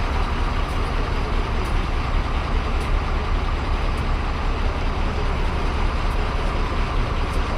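A loaded mineral truck idles steadily at a forest checkpoint while forest workers climb on top to inspect its load, a constant low engine rumble continuing throughout without break.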